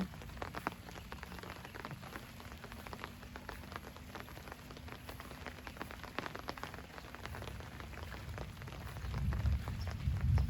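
Light drizzle falls outdoors among green trees after a storm, a soft steady patter of raindrops on surfaces with scattered ticks, swelling slightly louder near the end.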